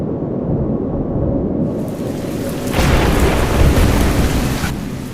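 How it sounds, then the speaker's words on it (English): A thunderstorm with heavy rain: dense, loud rainfall with a rumbling swell of thunder building midway, no voices. "the sky grew dark. Heavy clouds gathered, and soon the rain began to fall. It was not a simple rain. It was a storm that pounded the earth with anger."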